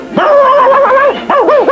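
Cartoon dog letting out a long, sustained yowling bark followed by two quick wobbling yips, loud and up front with no speech.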